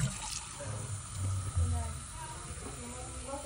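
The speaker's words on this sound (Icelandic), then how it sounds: "nú ætlum við að setja heitt vatn onni í hana bauk" Hot water pours into a container with a steady, close rushing hiss that swells and dips slightly as the flow changes.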